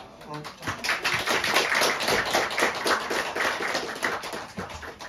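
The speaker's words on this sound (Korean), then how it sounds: "우리 큰 박수를 한번 환영해 주시길 부탁을 드립니다" A church congregation at Sunday worship claps to welcome two singers, sharp hand claps in a quick, slightly uneven rhythm, fairly close and lively, with voices mixed in.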